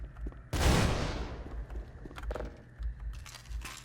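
A grenade explosion in the video game Hunt Down The Freeman, one loud burst with a rumbling decay, followed by a few softer metallic clinks and debris sounds.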